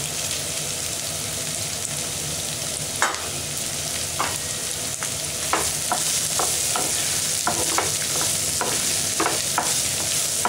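Onions frying toward golden brown in a pan for mint pulao, a loud steady sizzle with repeated spatula clinks and scrapes growing busier in the second half, no voices.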